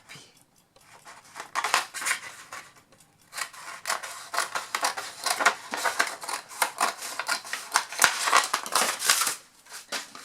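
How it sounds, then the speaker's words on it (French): Scissors snip through paper or card along a drawn line while building an album, with a rapid series of crisp cuts and rustles and a short pause near the start. "Je vais faire un trait ici. Hop. Et je vais couper."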